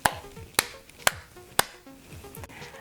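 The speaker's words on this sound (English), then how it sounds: "The budget version would be to simply clap your hands around the crystal." Hands clapping around a crystal to cleanse it: four sharp, evenly spaced claps close by, about half a second apart, in a quiet room.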